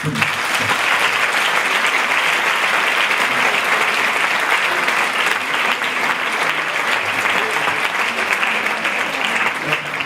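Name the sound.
audience applause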